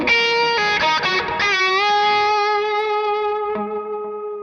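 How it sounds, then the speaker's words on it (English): An overdriven electric guitar, with delay and reverb placed in the amp's effects loop, plays sustained chords and notes that ring out with a long echoing tail and fade gradually. "So first of all, we hear the delay and reverb in the effects loop"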